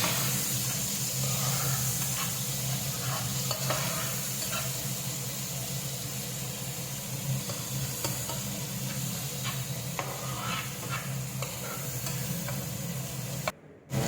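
Tomato and spice masala stirred in a pan while cooking a rohu fish curry, a steady loud sizzle and hiss with faint, irregular scrapes running throughout.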